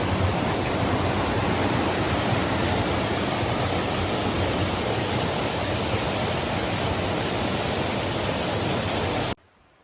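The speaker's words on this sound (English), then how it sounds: "That's a beautiful creek." Loud, constant rushing of a flowing mountain creek at a backcountry campsite in Grayson Highlands, Virginia, fills the air, a broad steady wash of water that cuts off abruptly at the end.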